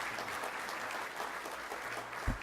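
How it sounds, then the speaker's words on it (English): Applause for the keynote speaker at a business excellence awards event: faint, steady clapping from the room, heard at a distance with a soft low bump near the end. "give a warm round of applause to our keynote speaker, Alan Odette"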